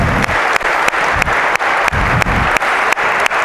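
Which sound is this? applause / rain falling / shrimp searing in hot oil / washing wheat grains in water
applause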